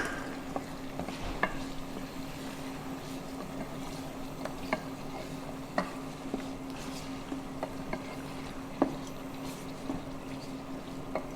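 Onions fry with spices in oil for an aloo mutton curry, a steady close sizzle with a low hum underneath and sparse small clicks of stirring.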